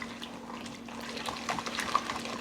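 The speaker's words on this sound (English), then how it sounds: "now I can add more of the cold water" Cold water poured into a chickpea flour paste in a kitchen, a soft continuous trickle and splash of liquid, fairly quiet and close, with no talking.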